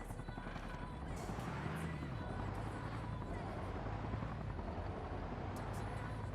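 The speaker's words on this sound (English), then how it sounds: "Who's this helicopter that I can hear?" A helicopter flies overhead during a night military simulation training exercise, a faint, steady rotor drone under constant ambient noise with some voices present.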